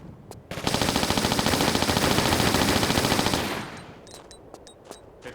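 Uzi gunfire in Tomb Raider: The Last Revelation, a loud continuous automatic burst lasting about three seconds, followed by a few quieter metallic clinks.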